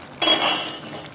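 A lid is lifted off a pot of vegetable curry, making a short metallic clink and scrape, close and alone.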